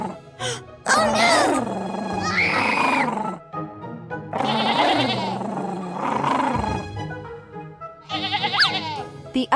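Cartoon sheep bleat in long wavering cries, several loud calls in succession with pauses between them, mixed with lively animated sound effects.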